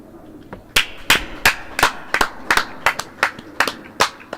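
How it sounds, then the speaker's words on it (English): Spectators at a croquet match clap in a series of about a dozen sharp, loud hand claps close to the microphone, spaced irregularly over steady background noise. "the clapping was probably quite loud on the microphone"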